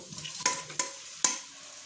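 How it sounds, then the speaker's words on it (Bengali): Fried cauliflower stirred into a bubbling gravy in a pan for a vegetarian cauliflower masala. Three sharp scraping clinks of the spoon ring out over a faint, steady sizzle. "তো দিয়ে এবার এই গ্রেভির সাথে ভালো করে এটা মিশিয়ে দেবো"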